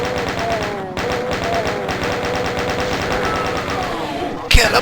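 A chain gun in the game Doom fires a rapid, unbroken stream of loud mechanical shots with a steady pulsing rhythm, while someone talks over it, ending in a sharp burst.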